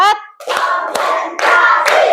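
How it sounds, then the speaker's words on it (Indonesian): Rhythmic hand clapping from a class cheer in a school classroom, a run of sharp group claps in steady rhythm, loud and close, with a brief high voice at the very start. "Tepuk semangat, tepuk 1, tepuk 2, tepuk 3, tepuk 4"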